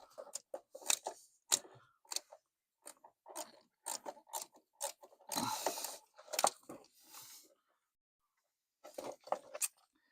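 A small socket wrench ratchets in short, clicky bursts while the engine is being removed from a Maserati 4200, each run of close, crisp pawl clicks broken by pauses, with no talking.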